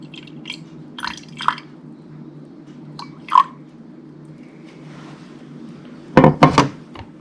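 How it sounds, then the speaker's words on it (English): About 20 ml of liquid is poured into a container on a kitchen scale while making bioplastic, giving a few soft, scattered drips and splashes before a brief, louder gurgling pour near the end over a quiet background. "then I'm going to pour out our 20 mils"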